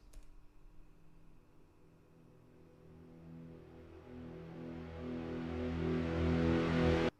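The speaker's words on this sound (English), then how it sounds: "you can hear that it creates a sort of a rumble that comes upwards." A low rumbling wash made with reversed reverb that swells steadily louder and brighter over several seconds, then cuts off abruptly at its peak.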